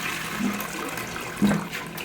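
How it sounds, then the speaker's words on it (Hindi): Indian household toilet being flushed after cleaning, a steady close rush of water running through the bowl for the whole stretch, with no talking over it. "देन एक बार आपको जो फ्लश है वो चला देना है, जो नीचे होल की गंदगी है वो भी साफ़ हो जाए।"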